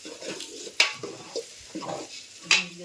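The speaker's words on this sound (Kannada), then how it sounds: "ಈ ರೀತಿ ಎಣ್ಣೆ ಒಳಗ ಒಂದ್ ಸ್ವಲ್ಪ ಹೊತ್ತ ಫ್ರೈ ಮಾಡ್ಕೊಳಮ್ರಿ" Onion and capsicum coated in masala fry in oil in a pan, with a quiet background hiss and a few sharp clinks and scrapes of a utensil stirring against the metal.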